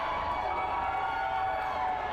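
A hometown crowd at a two-out-of-three-falls no-disqualification heavyweight championship wrestling match roars in a steady, dense wash of cheering that holds without a break.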